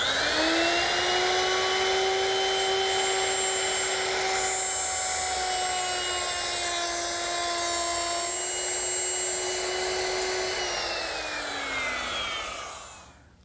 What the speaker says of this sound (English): using a router with a 1/4-inch round nose bit and a guide fence